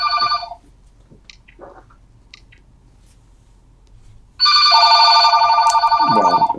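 A telephone rings in an office-like room during an interview, two loud electronic trilling bursts, one short at the start and a longer one after a stretch of near quiet, with faint clicks between.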